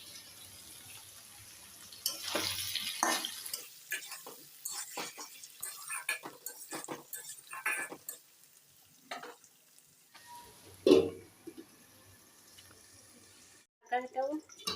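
Jackfruit curry fries in a pan that is covered and uncovered, with intermittent sizzling, stirring scrapes and lid clatter, plus a sharp clank near the end and someone talking at times.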